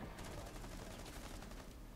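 Rapid gunfire from a Rainbow Six Siege ranked match plays on PS4 Pro, a dense, steady run of shots lasting the whole moment at moderate distance, with no voices over it.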